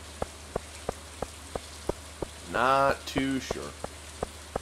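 Rain falling in the Stardew Valley video game plays as evenly spaced soft ticks, with someone briefly speaking over it midway.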